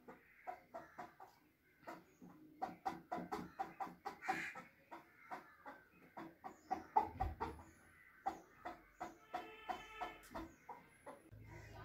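A homemade chicken toy made from a plastic paint box and a pulled string gives a run of close, rhythmic clucks, each short squawk repeated steadily like a hen.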